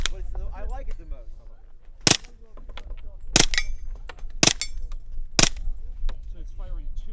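Gunfire at an outdoor media range day for new guns, rifles and shotguns, four loud sharp reports spaced about a second apart, some closely paired, over steady background chatter and wind.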